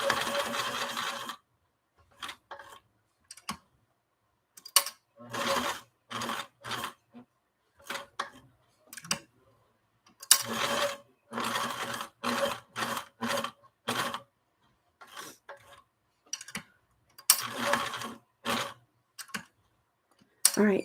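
A sewing machine stitching an owl design in short, stop-start bursts, each a quick run of clicking stitches separated by silences, close and moderately loud.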